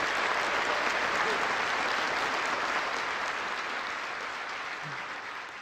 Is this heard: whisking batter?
no